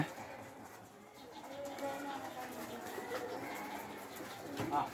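Pigeons cooing softly and fairly close while birds are being trapped, a low, continuous murmur of coos under faint background sound.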